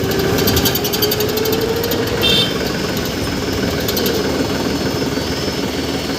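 A tractor engine idles steadily at a repair shop, a constant loud, rough hum with a faint higher whine and brief clatter, running throughout with no voices.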